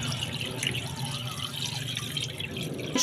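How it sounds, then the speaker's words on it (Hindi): About a litre of water pours into a cooking pot for yakhni broth with salt, whole coriander and cumin, making a continuous splashing, gurgling rush that stays steady and close throughout. "इसमें डालेंगे तकरीबन 1 लीटर पानी"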